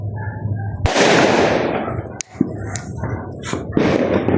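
A loud New Year firework blast bursts out and crackles away, followed by a sharp second pop and further crackling bursts nearby.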